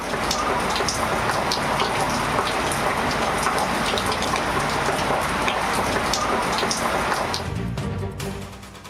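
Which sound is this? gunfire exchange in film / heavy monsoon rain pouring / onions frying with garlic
heavy monsoon rain pouring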